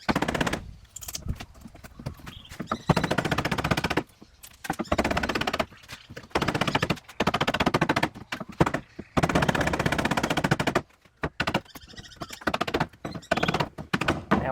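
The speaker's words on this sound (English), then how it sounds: "Now when I'm chiseling, I'm just working from left to right" Steel chisel cutting a groove into a wooden joint recess, sharp repeated knocks and thunks in quick irregular bursts with brief pauses, loud and close.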